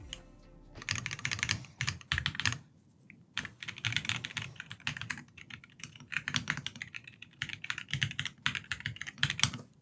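A Monsgeek M1W DIY 75% mechanical keyboard is typed on in fast, close bursts of clacky keystrokes with short pauses between runs.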